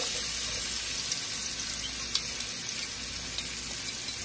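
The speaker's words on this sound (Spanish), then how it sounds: "Bueno, pues voy a freír los chayotes." Chayote pieces sizzling in a frying pan, a steady broadband hiss of hot oil with small pops and crackles, continuous and fairly close, with no talking over it.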